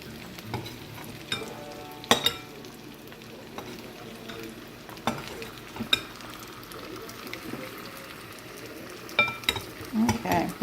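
Sriracha chicken frying in a pan, a soft steady sizzle broken by intermittent scraping and clattering stirs, with a louder burst of stirring near the end.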